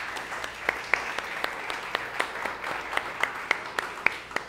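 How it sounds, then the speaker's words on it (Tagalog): A church congregation applauding during a worship service, a short burst of many hands clapping in a fairly even rhythm with a few sharper claps standing out, moderately loud in a reverberant hall. "Palakpakan po natin si Jesus."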